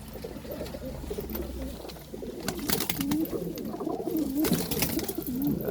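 Pigeons in a loft coo repeatedly at close range, their low, rolling calls overlapping, with some wing rustling and faint clatter in the background.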